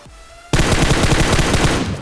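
Rapid automatic gunfire from PUBG, a sudden loud burst kicking in after a brief quiet moment and rattling on continuously in quick repeated shots to the end.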